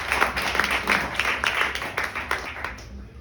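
Scattered, fairly close clapping from a small crowd at an open mic comedy show in a Leuven venue, steady for a few seconds and thinning toward the end.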